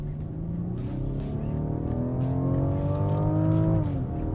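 2014 Rolls-Royce Wraith with a 6.6-liter V12 accelerating hard, its engine note climbing smoothly through one long pull and dropping at a shift near the end; loud and close from inside the car, with no talk.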